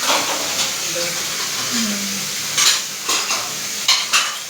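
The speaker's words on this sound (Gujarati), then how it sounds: "મમ્મીએ વાસણ ધોવા બેસી ગયો" Dishes and pots being washed by hand at home, with a steady wash of running water and scattered clinks of metal utensils toward the end, fairly close.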